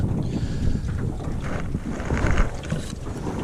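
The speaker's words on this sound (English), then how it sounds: "There's some wind blowing into these points" Wind blowing across a lake during fall bass fishing from a boat, a steady rushing buffet with low rumbling gusts hitting the microphone and no speech.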